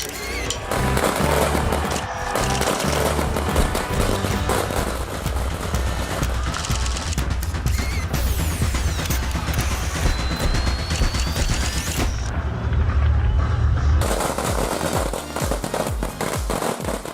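Fireworks crackle and bang in rapid, dense bursts, loud and continuous, with popping volleys layered over a deep rumble and a brief whistling streak.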